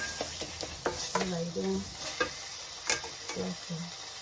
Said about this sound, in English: Just incorporate everything, stir vigorously.